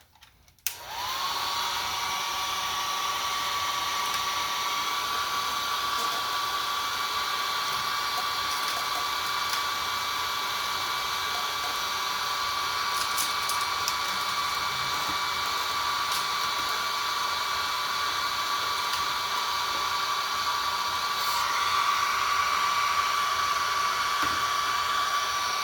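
A hair dryer blows steadily on an 11x14 acrylic canvas painting to dry it, switching on abruptly and holding a loud, even whine with airy rush for over twenty seconds.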